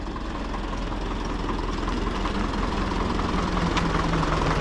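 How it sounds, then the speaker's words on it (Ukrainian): Tractor with a header attachment idles steadily nearby during field preparation for soybean harvest, a continuous low rumbling engine drone with mechanical vibration and no talking. "зараз подивимося, щоб трактор заїхав із жаткою"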